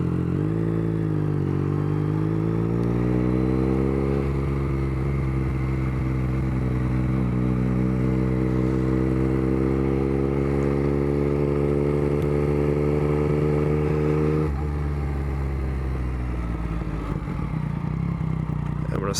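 A 2021 Yamaha MT-09 motorcycle being ridden, its engine droning loud and close with rising pitch as it accelerates through the gears, holding a steady cruise, then easing off near the end.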